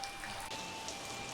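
Steady rain falls on a remote village, a faint, continuous patter of raindrops with occasional louder drips and no talking.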